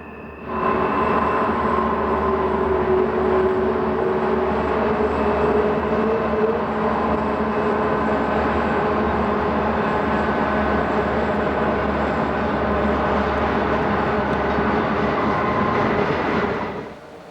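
A westbound BNSF freight train from Denver in Feather River Canyon rumbles past with multiple locomotives, a steady, loud low roar and engine drone sustained for the whole pass with no voices.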